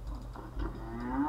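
A cow and calf mooing in the farming video game Farmerama, one sustained low moo that rises in pitch toward the end, heard alone over a faint background hum.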